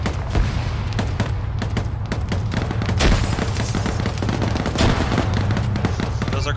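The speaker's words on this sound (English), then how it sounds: "Those are grenades." Grenade explosions and dense gunfire crash together in a game firefight around a barn, a constant loud barrage of sharp cracks and booms close by.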